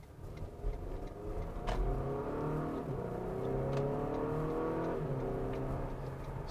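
A 2019 Acura RDX Tech Package crossover accelerating while merging onto a road, its engine note rising steadily under continuous road and tire noise from inside the cabin.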